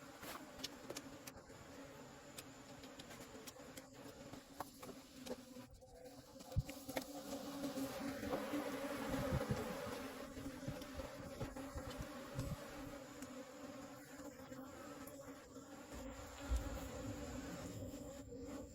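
Bees hum in a continuous, faint buzz during a wild honey harvest outdoors, with occasional soft knocks and rustles nearby and no voices.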